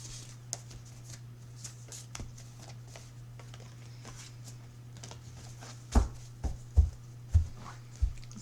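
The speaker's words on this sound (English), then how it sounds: "Let's shuffle these in first so I don't forget." Tarot cards being shuffled, soft papery riffling and sliding at close range over a low steady hum, building into a series of louder distinct shuffle bursts toward the end.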